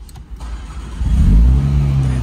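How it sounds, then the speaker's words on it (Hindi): A stock Mini Cooper S convertible starts with its push button: a brief click and starter whir, then the engine catches and settles into a loud, close, steady idle rumble. "सो ये स्टार्ट कर रहे हैं बटन।"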